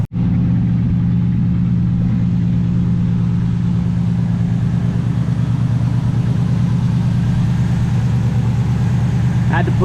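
A Jeep engine starts and runs with a steady low rumble and idle, close and loud, continuing without a break and with no talking.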